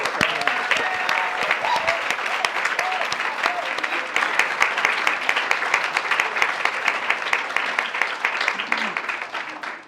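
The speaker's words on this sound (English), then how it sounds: "So let's just give a hand of applause for him." A room full of people gives sustained applause in honour of Dean John Jackson at a plenary session on disrupting sexual violence, steady dense clapping lasting the full stretch with scattered voices mixed in.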